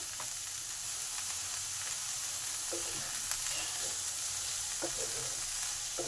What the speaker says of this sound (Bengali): এগুলো একটু ভালো করে ভেজে নেব